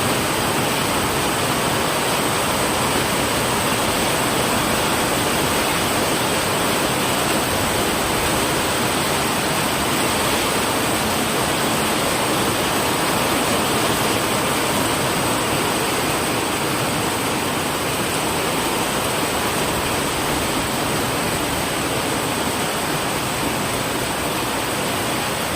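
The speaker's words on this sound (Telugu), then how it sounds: "చూడండి ఎంత లావుగా పడుతుందో వర్షం, చూడండి ఫుల్ వర్షం." Heavy rain pours down in Malkajgiri, a dense, unbroken roar that holds at a steady level throughout, with no voices.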